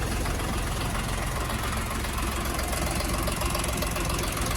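A Dongfeng 244 G2 tractor engine runs steadily at a constant idle, a dense, even rumble with a fine rhythmic knock, close and loud throughout with no talking.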